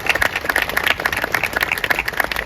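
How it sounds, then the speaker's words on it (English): Audience at a Paralympic Flame ceremony gives a round of applause, a dense and steady patter of many hands clapping together, fairly close and without any talk over it. "I would like to lead a second round of applause to the members of the Guttmann family"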